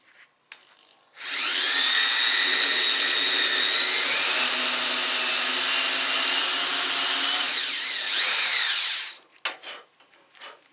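A Skil 6221 cordless drill drives a small screw into the side of a wooden kitchen shelf, with one loud sustained whine of about eight seconds that rises slightly in pitch, framed by brief handling knocks before and after.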